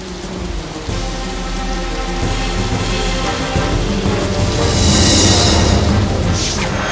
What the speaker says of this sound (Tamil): மழை கோவர்தன மலையின் மேல் கொட்டி தீர்த்தது.